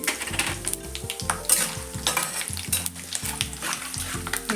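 Peanuts, coconut slices and coriander seeds sautéing in a pan with mustard seeds and cumin for Khandeshi baingan bharit, giving a dense continuous sizzle with repeated scraping stirs and faint metal clinks up close.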